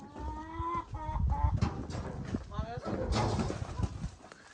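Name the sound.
hens clucking on a farm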